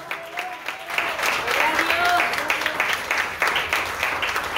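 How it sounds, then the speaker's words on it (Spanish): A church congregation claps and applauds during a Spanish-language sermon, a steady dense wash of hand claps carried through the whole stretch, with a voice speaking over it. "Dale palmas al Cristo de la gloria."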